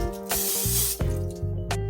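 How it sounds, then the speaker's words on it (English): Three quick hissing bursts of a spray can, close by, each a short spritz with brief pauses between, over a steady low background hum. "And we're going to spray it again."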